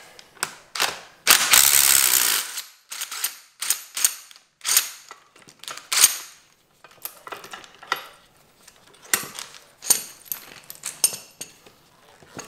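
Ratchet wrench loosening spring compressors on a BMW F30 340i during a rear-wheel-drive lowering spring install, with rapid clicking bursts in an uneven rhythm, close and crisp, separated by short pauses and a louder metallic rattle near the start.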